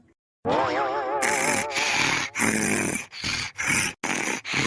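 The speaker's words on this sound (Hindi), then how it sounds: "यहाँ खर्राटा मारती है" Loud, close snoring: a drawn-out wavering vocal rumble, then a rapid series of rough, rasping snorts with short gaps between them.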